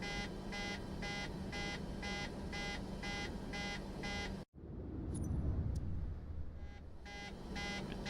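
Cockpit warning in a Boeing 737 in Microsoft Flight Simulator 2024, a rapid, evenly pulsed electronic beep repeating over a low cabin hum, cutting off briefly and then resuming.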